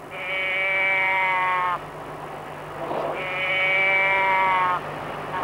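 A small toy moo box, a tipped-over can that mimics a Savoyard cow, gives two drawn-out bleating moos separated by a short pause, sounding close and reedy and mechanical.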